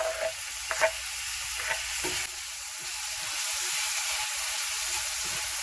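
Chopped tomato dropped into a hot frying pan for Caribbean stewed fish, bursting into a steady, close sizzle with a few clinks and stirring sounds early on, the frying hiss continuing evenly on its own.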